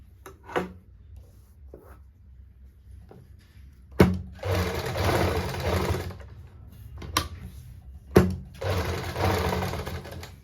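A sewing machine stitches a kameez in bursts, each run a whirring motor buzz lasting a couple of seconds, separated by sharp clicks and brief pauses, close and clear.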